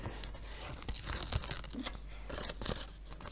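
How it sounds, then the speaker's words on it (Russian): A paper surprise packet is torn and crinkled open by hand, with a run of close, scratchy rips and rustles over a few seconds and no talking. "Давайте откроем наш пакетик."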